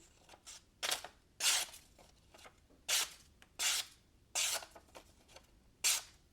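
A knife with a tall flat-ground blade slices through paper in a series of about eight short, crisp hissing swipes, faint and close, with quiet pauses between them and no talk.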